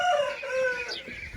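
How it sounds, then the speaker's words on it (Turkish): A rooster crows loudly and close, its drawn-out call rising and falling, followed by a softer clucking fowl sound. "Horozlar artık cevap veriyor."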